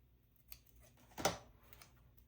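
New scissors make a single crisp snip through a paper planner sticker, heard close and quiet against a near-silent background.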